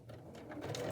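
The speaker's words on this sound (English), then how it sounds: "Now I'm going to start to sew the side seams." A sewing machine stitches the side seams of an adjustable apron with a brief, steady, close mechanical whirr and fast needle rhythm, and no talking.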